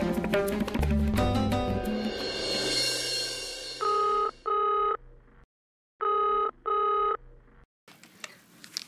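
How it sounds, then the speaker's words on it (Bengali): Outgoing telephone call tones: a burst of electronic dialing and busy-style beeps, then two pairs of steady ringback tones separated by silences, loud and clear with no talking. "আচ্ছা আমি ফোনটা করছি।"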